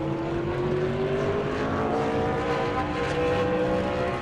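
A race car runs on the New Smyrna track under green flag at an ASA Southern Super Series qualifying session, its engine holding a steady, loud, continuous drone with a slowly rising pitch and no voices.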